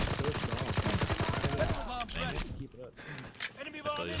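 Silenced PPSh submachine gun in Call of Duty WWII, a rapid steady burst of muffled shots for nearly two seconds, followed by scattered game sounds with a voice talking over them.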